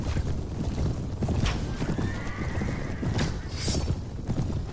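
Horses neigh and gallop as cavalry charges in the Mount & Blade: Warband mod Anno Domini 1257, with whinnies and hoofbeats rising over dense battle noise, creaks and clatter.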